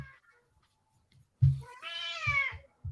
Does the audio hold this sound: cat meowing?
yes